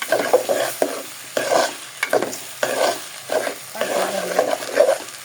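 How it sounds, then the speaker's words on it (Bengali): Rice being stir-fried dry in a pan on a gas stove, with rhythmic scraping strokes of a spatula, about eight or nine passes over a soft sizzle, close and fairly loud. "এখন চালটা ভালো মতো হয়েছে, কষাই নিব।"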